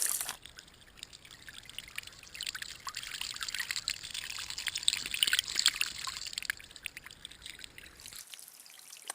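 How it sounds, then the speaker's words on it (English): A natural spring water fountain beside a lakeside hiking trail flows in a soft, steady trickling pour, faint and continuous, ending abruptly near the close. "now I'll be coming up to this water fountain. It's a natural spring water."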